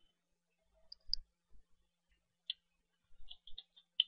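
Sparse, faint clicks of computer keys tapped one at a time while typing a search, with quiet pauses between short bursts.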